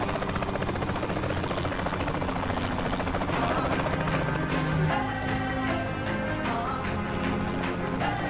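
A helicopter drones steadily with a loud, thumping rotor wash throughout, joined by tense music and scattered game effects partway through, in the video game Saints Row: The Third Remastered.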